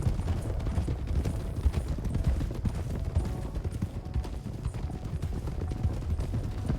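Horse hooves of an approaching rider in RedM, the Red Dead roleplay game, a steady rhythmic clip-clop on dirt that continues throughout at moderate loudness over low ambient rumble.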